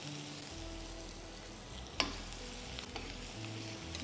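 Eggplant and onion, salted, cook covered in oil over a low simmer, giving a quiet, steady frying hiss with a single sharp click midway and faint clatter later.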